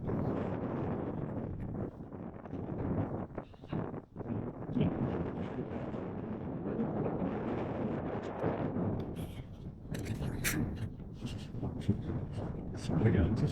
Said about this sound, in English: It's really windy, so the sand is going in my eyes.